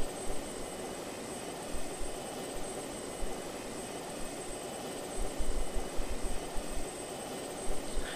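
Heavy cargo plane in the video game Just Cause 2, a steady broadband engine roar holding level throughout with no voices.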